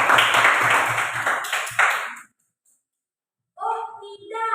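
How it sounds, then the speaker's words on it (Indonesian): Hands clapping in a classroom: a dense burst of applause that fades out after about two seconds, followed by a short silence before a voice begins speaking. "kasih tepuk tangannya dulu"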